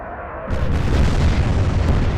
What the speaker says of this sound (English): And magazine explosion.